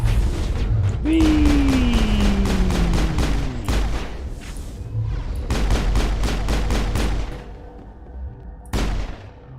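Bursts of rapid weapon fire and impacts in a Mass Effect video game battle, loud repeated volleys with a short whine and brief pauses between salvos.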